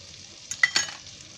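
Garam masala dropped into hot butter in a kadhai gives a brief, faint sizzle with a few soft scraping stirs, close and quiet with no talk.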